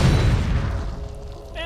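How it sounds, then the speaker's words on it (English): A turret in League of Legends is destroyed with a deep, loud booming explosion that rolls and fades over a second, before a voice briefly begins at the end. "Oh, there goes top lane and purple team's turret has been destroyed."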